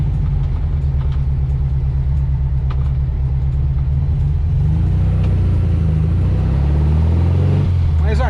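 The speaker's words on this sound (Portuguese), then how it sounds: "Aqui dá um pequeno trânsito para entrar no sábado" Saturday car traffic idles and rumbles at the entrance to Parque Villa-Lobos, a steady, loud, low engine drone with a vehicle pulling past near the end.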